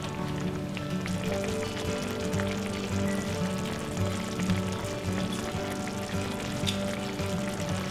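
Fries frying in a pan sizzle steadily and close up, a continuous crackling hiss with fine popping throughout, with no talk over it.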